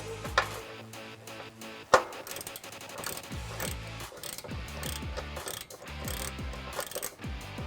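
A hand ratchet clicks in quick rhythmic bursts while tightening bolts on textured black N-Fab wheel-to-wheel nerf side step bars on a 2021-2022 Ford Bronco 4-door, close and clear with a couple of sharp knocks early on.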